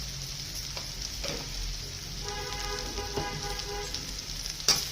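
Egg pohe base sautéing with turmeric in a pan, a steady low sizzle with soft stirring scrapes throughout and a sharp utensil knock near the end.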